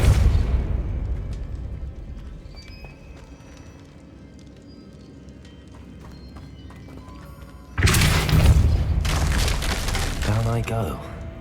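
A Depulso spell impact in the video game Hogwarts Legacy, a sudden loud burst that breaks out partway through and then rumbles on under heavy crackling debris and noise.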